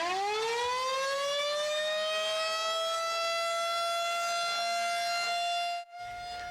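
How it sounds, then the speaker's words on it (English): Dane County outdoor civil defense siren sounding during a monthly test, a loud wail that rises and then holds a steady pitch before cutting off abruptly near the end. "Dane County resumed its monthly outdoor siren testing."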